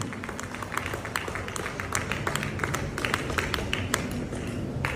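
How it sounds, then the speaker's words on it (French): A crowd at the reveal of a French manufacturer's car at the Paris Motor Show applauds with a steady patter of many hands, moderately loud and somewhat distant, with faint voices mixed in. "On a des applaudissements qui s'arrêtent assez vite"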